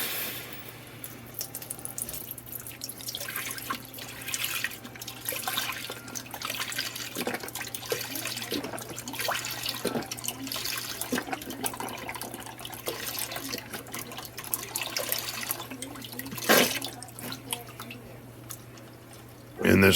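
Beef broth, about four and a half cups, pours from a carton into a measuring cup in a steady trickling stream, with light knocks and handling noises, and a brief louder clunk near the end.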